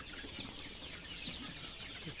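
Native country chickens at a poultry farm cluck in a low, steady murmur under a broad background hiss, with no talking.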